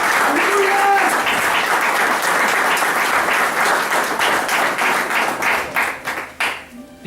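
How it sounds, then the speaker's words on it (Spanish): A church congregation claps in a dense, continuous round of applause during a Spanish-language worship service, some voices calling out under it, before the clapping thins into scattered claps near the end. "Denle un aplauso al Señor."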